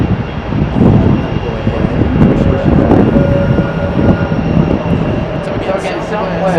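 Frontier Airlines jet at Raleigh-Durham International Airport, its engine roar steady and fairly loud throughout, with a low rumble underneath and people talking over it.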